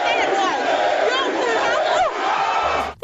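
A talk-show studio audience cheers and whoops loudly, a dense roaring crowd with shrill excited voices rising over the din, sustained for about three seconds before cutting off.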